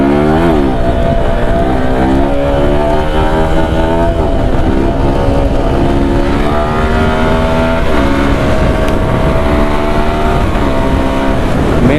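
A motorcycle engine revving hard during a wheelie in third gear, loud and close, its pitch climbing and dipping through repeated throttle surges and gear changes without pause.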